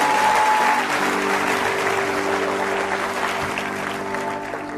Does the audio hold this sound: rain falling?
no